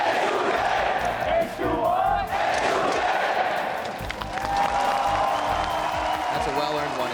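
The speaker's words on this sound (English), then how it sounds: "they've been very loud today cheering for H2K from the start" Loud esports arena crowd at an EU LCS playoff match between Unicorns of Love and H2K, cheering and roaring steadily with whoops throughout, with commentator voices talking over the noise.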